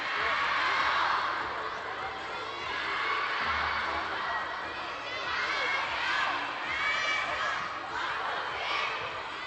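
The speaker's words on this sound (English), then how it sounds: "The crowd cheer Wang Chuqin." A large arena crowd at a men's singles table tennis quarterfinal in Macao cheers loudly and continuously, with shouts and whoops rising and falling in waves.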